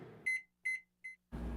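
Microwave oven beeping three times, clear electronic tones with the last one shorter, in a quiet room before louder background noise returns.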